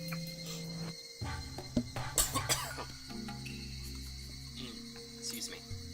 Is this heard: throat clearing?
yes